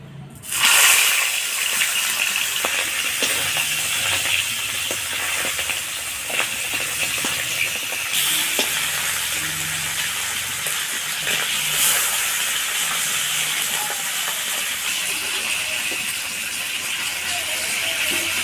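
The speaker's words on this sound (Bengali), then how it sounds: "তেল গরম হয়ে গেছে এবার মাছগুলোকে ভেজে নেবো" Pomfret fish frying in hot mustard oil over a wood-fired clay stove, a steady loud hiss and crackle running throughout with occasional pops, no talk.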